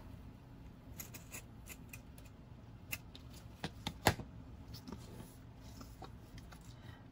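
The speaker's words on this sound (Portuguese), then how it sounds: "vou cortar como se fosse bandeirinhas da quina para o centro" Scissors snipping ribbon into flag-shaped points for a double Christmas bow with a spike: a string of soft, irregular cuts and clicks, faint and close, with one sharper snip near the middle.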